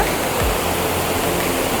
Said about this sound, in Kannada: ಇಲ್ಲಿಂದ ಸುತ್ತಲ ನೋಡ್ರಿ ನೀರು ಹೆಂಗೆ ಹರಿದು ಹೊಂಟೈತೆ